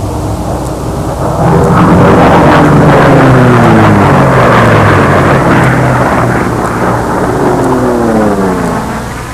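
Loud droning whine of model racing aircraft engines at a windy fly-in race, pitch sweeping up and down as the planes circle past, buzzing continuously with a strong, close sound.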